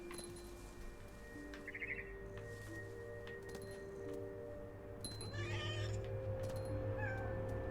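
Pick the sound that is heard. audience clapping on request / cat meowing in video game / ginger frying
cat meowing in video game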